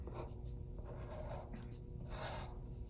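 A pen draws a black line across paper in a floral drawing, giving a steady, close scratching stroke that runs without a break for about three seconds.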